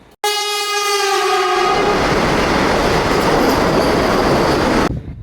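A train blasts its horn up close, then a loud roaring rumble of the passing cars fills the rest, steady and heavy.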